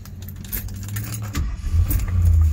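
A 1976 Ford Gran Torino fires up: keys jingle, then the engine catches after about a second and settles into a loud, steady rumble close by.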